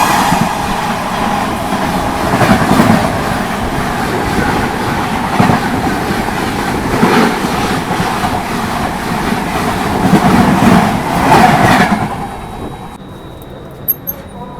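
An oncoming Bikaner train passes close by near Mirzapur, heard from aboard the Brahmaputra Mail as a loud, steady rush with rhythmic clickety-clack of wheels on rail joints, cutting off abruptly near the end.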